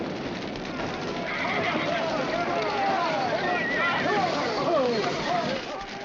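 Horses whinny and move about amid a noisy, crowded commotion as they are taken from a corral and hitched to wagons, with shouting voices mixed into the din throughout.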